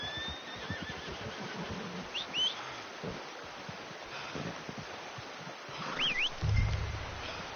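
A horse in Red Dead Redemption 2 gives a short whinny near the end, heard over a steady outdoor game ambience with birdsong and light rustling.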